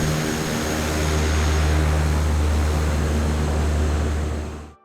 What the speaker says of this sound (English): just have a listen to these beautiful sounds on this airplane